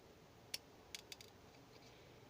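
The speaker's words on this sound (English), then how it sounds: "And then I just take a pair of scissors" A few crisp, quiet snips of scissors cutting a diamond painting kit, spaced irregularly, over a faint background hiss.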